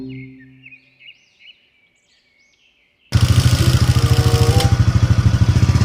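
A motorcycle engine starts up abruptly after near-silence with faint chirps, then runs loud and close with a steady, rapid pulsing idle.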